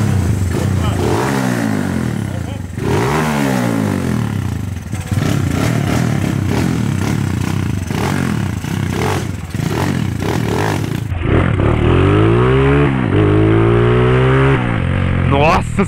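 A motorcycle on a test ride, accelerating hard through repeated rising revs and gear changes, loud and close, with a rider's voice talking over the engine at times.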